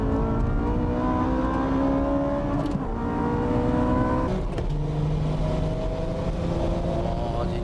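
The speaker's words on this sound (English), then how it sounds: "The Porsche with the mid-speed acceleration." A Porsche 996 Turbo races a Nismo GTR on track, its engine note climbing steadily in pitch as it accelerates hard, loud and continuous with a brief gear-change dip near the middle.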